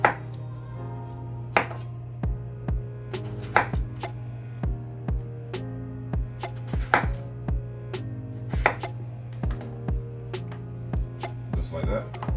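A knife chops steadily through potatoes on a board, cutting uniform slices for homemade french fries, with a sharp, regular series of close knocks over a low steady hum.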